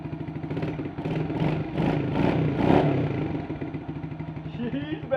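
A Kawasaki KLX 110 dirt bike engine idles and pulses close by, its mid-pitched putter swelling slightly and then settling. A voice can be heard over the engine.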